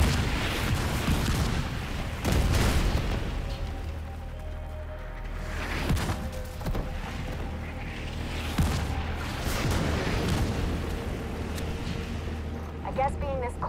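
Artillery barrage in The Division 2 at Coney Island Ballpark: continuous heavy booms and rumbling blasts roll on under a voice talking.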